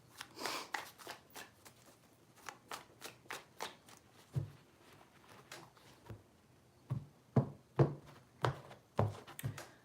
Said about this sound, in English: Three shuffles for Capricorn, please.